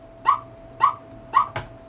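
A person's voice imitates a dog barking: three short, even bark-like yelps spaced about half a second apart, then a fourth, heard close and dry over a faint steady tone.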